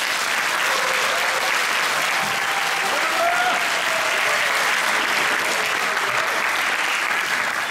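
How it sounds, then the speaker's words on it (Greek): Big round of applause for a church theatre group after a Christmas play, steady dense clapping from a large audience filling the room throughout, with a faint voice or two underneath. "Ένα μεγάλο χειροκρότημα."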